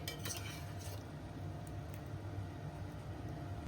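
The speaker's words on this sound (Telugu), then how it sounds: "ఇప్పుడు ఇందులో ఈ గోంగూర పేస్ట్ వేసేస్తున్నా. ఇప్పుడు ఇది మొత్తం కూడాను కలుపుకోవాలి." Gongura paste stirred into partly cooked chicken in a pot, a steady low scraping and mixing with faint sizzle and a few clinks of utensil against metal, continuous and close, no talk.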